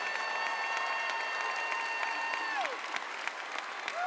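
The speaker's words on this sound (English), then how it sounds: "let's give them a great round of applause to thank them for the support they've given you" Audience applause at the AMU and APU Class of 2026 graduation ceremony: sustained, dense clapping from a large crowd filling the hall, with a faint tonal hum and a few sharper individual claps near the end.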